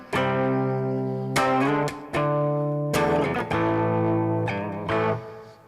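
Electric guitar through a clean Deluxe Reverb–style patch with a touch of drive, playing sustained chords and melodic phrases in several strummed bursts, close and loud with no talking.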